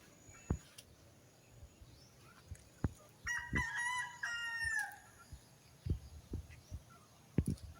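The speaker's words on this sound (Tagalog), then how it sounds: "May manok." A rooster crows once in the middle, somewhat distant, among scattered clucks and sharp knocks in a quiet outdoor setting.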